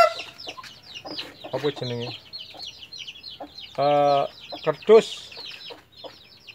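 Chickens cluck and squawk behind a rural house near a river, with bursts of loud, close calls at an uneven rhythm while a person talks over them.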